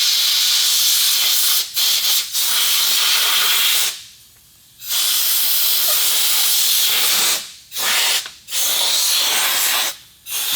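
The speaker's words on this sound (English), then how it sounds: "Just get some compressed air and hope for the best." Compressed air blasts debris off the engine of a flood-damaged McLaren P1, loud sustained hissing bursts broken by several short pauses, close and alone.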